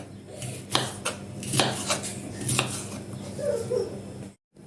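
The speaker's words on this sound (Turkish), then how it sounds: "Ve sonrasında lokmalık olacak şekilde doğruyorum." A knife chops red bell peppers into bite-size pieces on a cutting board in an irregular series of sharp taps over soft kitchen background noise.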